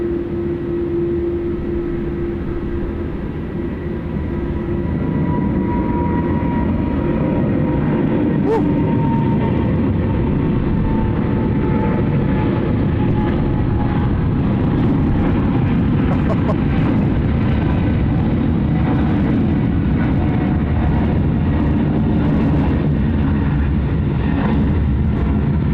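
A USAF KC-135 or KC-46 tanker at Sydney Airport gives a loud, sustained jet-engine roar with a steady low hum throughout, slowly shifting in pitch as it passes, with no talk.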